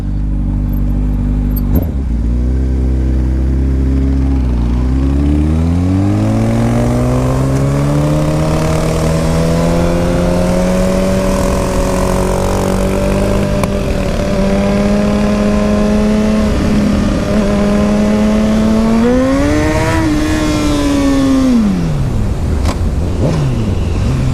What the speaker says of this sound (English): The bike is just wicked fast.